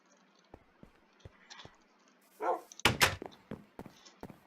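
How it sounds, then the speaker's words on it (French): A pet dog gives a few sharp indoor barks in a short burst mid-clip, with scattered faint thumps and small knocks before and after. "Marc, tu jappes, là."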